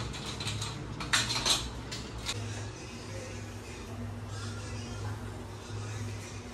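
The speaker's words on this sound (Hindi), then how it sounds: "बर्तन धोने हैं, बर्तन धो लूँगा मैं" Dishes and utensils being washed in a home kitchen, with soft clinks of metal cutlery and pots over a steady low hum, fairly faint and without speech.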